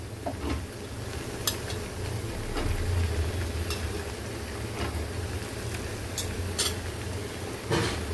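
Peeled ridge gourd pieces go into a pan of sautéed tomato, giving a steady sizzle with scattered scraping and clinking from stirring, close and moderately loud, with no talking.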